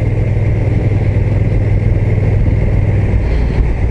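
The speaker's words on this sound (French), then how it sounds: "Ah, il est rugueux ce moteur, il me plaît pas" A Honda NT1100 DCT motorcycle engine runs roughly up close, a loud, constant low throb with a coarse, uneven texture and no change in revs.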